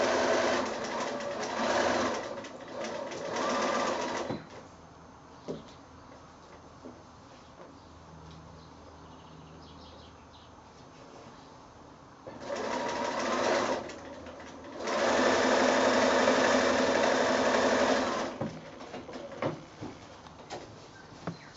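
A sewing machine stitches across the top of two fabric squares for a small drawstring bag, running in steady whirring bursts with quiet pauses between them and no talking.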